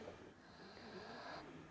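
A pig snores softly at close range on a freezing night, a faint, drawn-out nasal rasp with a slight whistling tone, heard alone in quiet surroundings.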